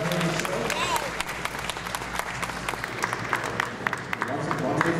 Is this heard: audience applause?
yes